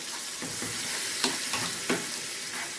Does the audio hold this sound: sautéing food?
yes